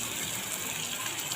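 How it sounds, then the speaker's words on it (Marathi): Water poured from a mixer jar into cooked masala in a pan, giving a steady, close gushing splash that runs without pause. "मिक्सरचं भांडं यामध्ये आपण पाणी घालून घेणार आहोत"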